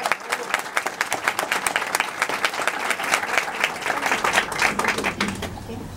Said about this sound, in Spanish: Un fuerte aplauso para José Luis Rodríguez, por favor.